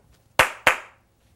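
Two sharp, loud hand claps about a quarter second apart, each ringing briefly, with near silence before and after.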